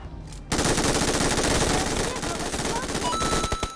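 Rapid automatic gunfire in a shooting video game, fired at a player turned into a ball, bursts in after a brief quiet start and rattles loudly and continuously before tapering into a few scattered shots.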